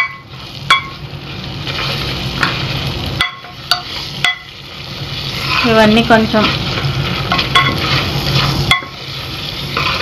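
Onions and small shallots frying and being stirred in a pan for Rayalaseema-style menthi pappu, a steady sizzle with sharp scraping clicks of the spoon, while someone talks over it throughout.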